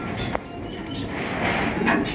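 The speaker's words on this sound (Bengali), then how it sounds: "পেয়ারটা দেখেন একদম বিগ সাইজের রেসার কবুতর।" A pair of big racer pigeons coo close by, with soft, low repeated calls over a steady background hiss. There is no speech.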